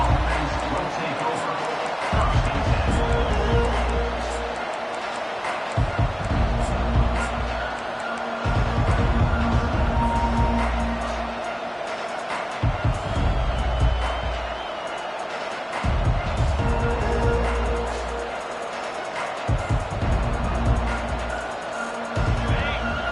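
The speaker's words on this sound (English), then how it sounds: "This crowd, full throat, splitting the eardrums and letting them know it's going to be a long day." Stadium crowd at a college football game between USC and Notre Dame roaring in loud waves that swell and subside every few seconds, with a commentator talking over the noise.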